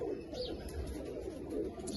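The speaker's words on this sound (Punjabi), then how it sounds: "ਮੇਰੇ ਕੋਲ ਇੱਕ ਹਬਸ਼ੀ ਕਬੂਤਰ ਪਿਆ ਵਾ" Desi pigeons, including old Zeera pigeons and a black Habshi, coo softly in a loft, a low rolling coo repeating through the short stretch over faint background noise.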